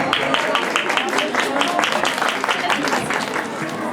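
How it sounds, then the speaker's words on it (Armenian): An audience applauds at a public event in Avan, a dense, continuous patter of many hands clapping with crowd voices mixed in. "Ահա ավելի բարձր ծափահարենք"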